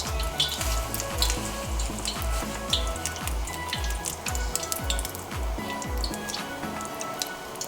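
Chile relleno with an egg coating frying in oil over medium heat, a steady loud sizzle with rhythmic low thumping and sharp crackles throughout.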